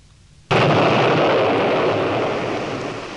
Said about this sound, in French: Une explosion loin sur la ligne de Gouvy, c'est le pont du Congo qui saute